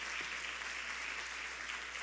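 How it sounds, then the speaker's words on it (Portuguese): A church congregation applauding a couple's 36th wedding anniversary during an evening service, steady even clapping at a faint, distant level with a low constant hum beneath. "Vamos aplaudir, né?"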